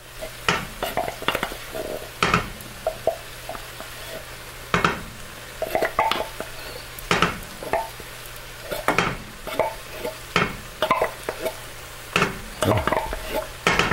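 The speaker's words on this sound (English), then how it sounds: "I'm going to mix these in and let them refry themselves." Black beans in a three-bean chili being stirred and refried in a pot, with a spoon scraping and knocking in repeated bursts over a steady close sizzle, no talking.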